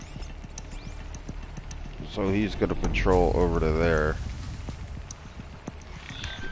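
Horse-like robotic machines from the video game Horizon Zero Dawn walk past with rhythmic metallic clip-clop hoofbeats and mechanical whirring, swelling loud midway and then fading, while someone talks over them.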